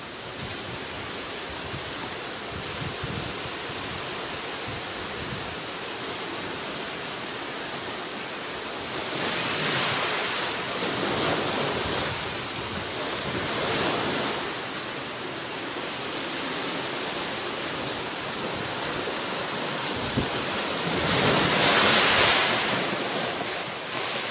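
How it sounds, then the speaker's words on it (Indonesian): Ocean waves wash onto a beach in a steady, continuous hiss of surf, swelling louder with breaking waves around the middle and again near the end, with no voices. "ini aku kasih sound suara ombak di pantai"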